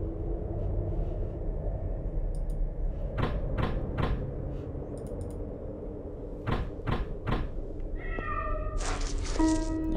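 Cat meows in the video game The Lost Crown over a constant low ambient hum. Several sharp clicks and taps come in two clusters, and plaintive tonal cries follow near the end.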